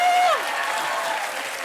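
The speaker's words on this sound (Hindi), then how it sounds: "जुगल सर के लिए एक बार ताली बजाएं।" Studio audience applause for actor Jugal Hansraj on a comedy talk show, a dense, even burst of clapping that holds steady for the whole moment, with a short voice at the start.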